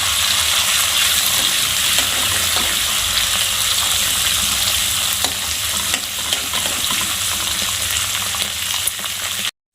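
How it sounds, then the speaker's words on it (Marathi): Green peas sautéing in oil for a mini samosa filling, a steady close sizzle and hiss with occasional stirring scrapes running continuously, no voices. "त्यानंतर आपण त्यामध्ये हे हिरवे वाटाणे टाकून घेऊया, ते पण आपण चांगलं तेलामध्ये परतून घेऊया"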